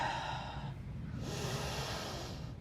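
Deep yoga breathing during a held down-dog pose in a yoga class, a slow, close, airy inhale then exhale over soft steady background noise.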